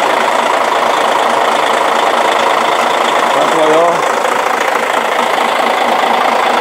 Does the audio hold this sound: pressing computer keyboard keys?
no